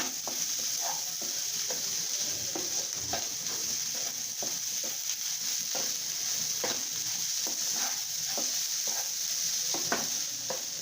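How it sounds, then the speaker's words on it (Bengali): Lentils and chopped onion with green chilli sizzle steadily in a pan for khichuri, with frequent scraping stir strokes from a spatula over a constant frying hiss. "আরও কিছুক্ষণ নেড়ে চেড়ে দিতে হবে।"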